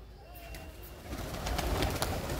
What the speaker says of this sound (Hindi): कई कबूतर हैं फ्रेंड्स